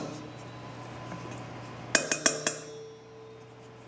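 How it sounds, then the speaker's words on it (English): A spoon scoops hot baked potato flesh into a bowl, giving a quick run of four sharp clinks against the dish, close and clear over a low steady background hum. "I'm going to scoop out into my bowl"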